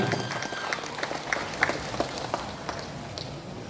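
A seated crowd at an international seminar at a Surau applauds a professor's book launch, a moderate, even spread of clapping with a few louder individual claps standing out.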